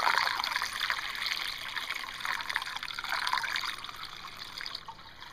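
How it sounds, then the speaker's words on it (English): Water from a hose gurgling and trickling into a car's cooling system while it is being filled, a steady close bubbling stream with no talk. "A lot of gurgling."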